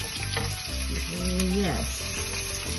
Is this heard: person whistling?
no